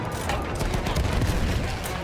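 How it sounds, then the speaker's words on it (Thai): Dense bursts of distant artillery fire and booming blasts from the video game Battlefield 1 roll together in a continuous barrage, with faint voices mixed underneath. "มีปืนใหญ่ยิงจากด้านหน้านะครับ"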